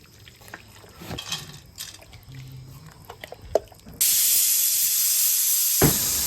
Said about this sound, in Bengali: এই প্রেসার কুকারেই মূলত মাংসগুলো দিয়ে সিদ্ধ করে নেওয়া হবে।